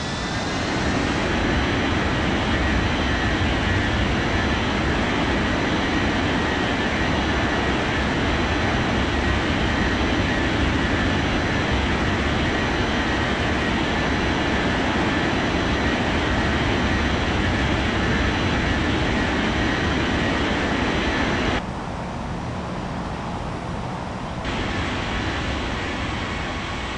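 An airliner takes off in a flight simulator game, its jet engines a loud, continuous roar that holds steady throughout and then drops and thins briefly near the end.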